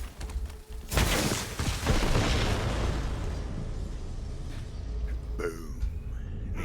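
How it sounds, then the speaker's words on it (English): Set bombs detonating in the Borderlands 3 video game: a sudden loud boom that swells into a long, rumbling roar with crackling debris, then trails off into scattered pops and rattles near the end. "The explosion echoed through."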